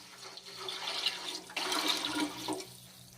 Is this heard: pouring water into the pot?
yes